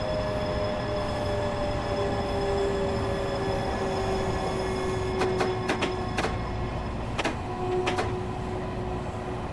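An M3 commuter train in a train simulator video game rumbles past steadily with tonal hum and several sharp metallic clanks and squeals from the wheels, continuous and fairly close.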